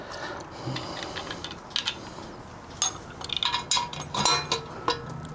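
A metal washer and nut clink and tick against the metal pedestal of a Vevor spring compressor while it is put together at home, with light scattered taps and small metallic rattles close by.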